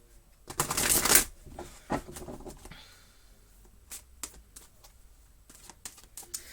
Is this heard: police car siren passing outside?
no